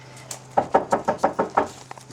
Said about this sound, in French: on tape à la porte